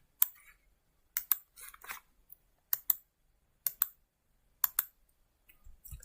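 Several short bursts of computer keyboard key presses while editing surveying data, crisp close clicks in small clusters separated by silent pauses, no talking.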